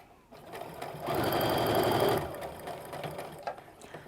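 A sewing machine stitches a quilt seam, its motor whirring up into a steady, buzzing run for about a second before slowing and trailing off, close and clear with no voices.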